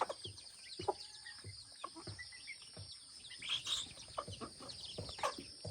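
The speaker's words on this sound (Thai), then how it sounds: "อันนี้คือไก่ที่เขาเลี้ยงไว้" Chickens raised at a rural home cluck and call near and far, with intermittent chirps and scattered clucks over light outdoor background noise.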